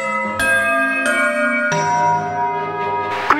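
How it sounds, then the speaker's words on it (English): Bell tones ring at a school before class, three or four separate metallic strikes a little over half a second apart, each leaving a long ringing decay, with a short clatter at the end. "let's get to the classroom before the bell rings"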